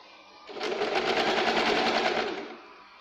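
A sewing machine stitching the katori cup section of a blouse starts up, hums in a quick steady run for about two seconds, then slows and stops, close and clear with no voices.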